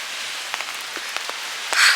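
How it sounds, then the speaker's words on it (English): Rain falls outdoors in Brooklyn, a soft steady hiss with scattered faint drops ticking on surfaces, close and brief. "Y'all, it's been raining in Brooklyn,"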